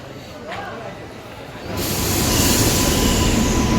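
A train arrives at Sawantwadi station with a sudden rise to a loud, steady rumble and metallic wheel noise; faint voices and an announcement-like tone before it.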